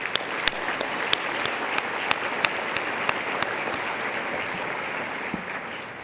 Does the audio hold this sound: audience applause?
yes